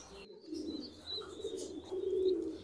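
Young Black Pomeranian pigeon chicks, about forty days old, give soft, low, wavering coos close by, with a faint higher chirping over them and no talk.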